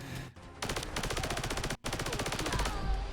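A laser RCW fires in the video game Fallout 4: dense, rapid automatic shots pour out in two long streams split by a brief gap, loud and close, with no talk.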